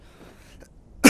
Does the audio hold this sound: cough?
yes